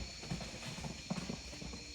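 Horses run outdoors in the distance, their faint hoofbeats thudding irregularly behind a steady background hum.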